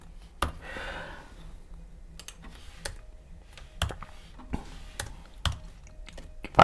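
Someone types on a computer keyboard in short, uneven bursts of sharp, close key clicks with pauses between, against a quiet room.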